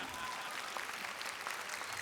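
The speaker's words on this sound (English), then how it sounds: "Ernest, and you can clap." Audience applause at a school awards event, a continuous, fairly faint wash of clapping heard from a distance.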